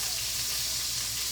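Chicken thighs searing skin side down in a hot pan give a steady, close, bright sizzle and crackle that holds evenly throughout, with no voices.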